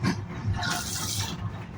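Water gushes steadily from a tap into a basin on the Coimbatore Jan Shatabdi Express train, a continuous splashing rush with no voices.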